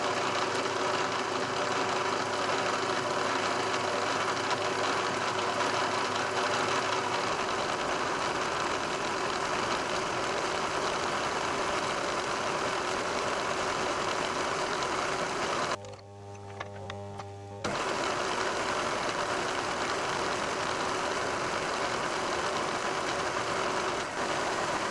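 A milling cutter cuts six narrow 2 mm slots into a small Stuart Turner 10H steam engine part, a continuous grinding machine drone with a low motor hum that briefly drops out midway before resuming.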